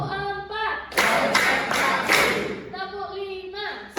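A classroom of children claps together in rhythm, a few loud group claps in a burst between stretches of the teacher's voice counting aloud.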